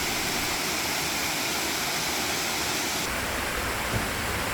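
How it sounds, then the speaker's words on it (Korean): Waterfall in Gugokdam valley on Seoraksan, a tiered fall of 22 m and 46 m drops, producing a dense, constant broadband roar, loud and unbroken with no talk. "22m의 왼쪽 폭포는 봉정암 방향의 구곡담 계곡 상류에서 흘러내리며"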